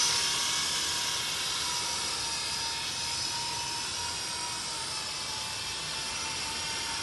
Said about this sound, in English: For the first time I'm flying this helicopter.